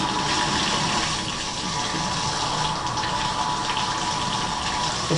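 Water gushes steadily from a broken faucet, a loud, continuous rushing hiss that holds unbroken from start to finish with no voices.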